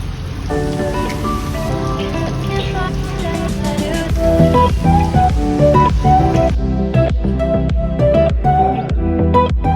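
Steady rain pours down throughout, a dense patter mixed with a tonal, musical layer running over it.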